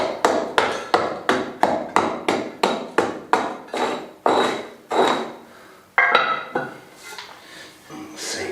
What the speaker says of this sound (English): I've just got a little bit of a lump in this corner I need to just chip out.